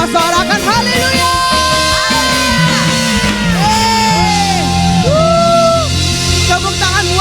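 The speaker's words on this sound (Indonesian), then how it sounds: "Sama sorakan haleluya." A church congregation at a GBI Duta Permai Sunday service in Indonesia shouts hallelujah together, a loud, sustained mass of voices with whoops and yells carried over continuous worship music.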